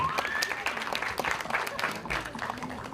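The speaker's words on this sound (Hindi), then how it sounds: "एक बार जोरदार तालियां चाहिए अनुराग के लिए" Audience applause for Anurag at a star-cast teaser launch event for the film Border 2, a dense steady clapping that runs throughout with a voice speaking over it.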